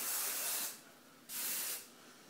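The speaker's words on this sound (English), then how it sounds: "And then I would just set everything with some hairspray." Hairspray is sprayed onto polished hair in two short, close hissing bursts separated by a brief pause, quiet and alone.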